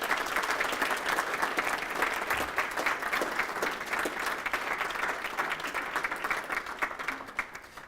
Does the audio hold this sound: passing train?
no